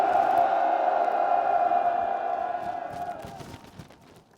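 Party members at an outdoor political reform rally in front of the National Assembly in Yeouido raise a loud collective cheer. The sustained roar of voices echoes, then gradually fades and thins out.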